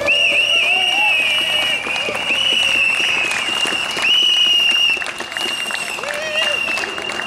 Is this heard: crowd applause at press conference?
yes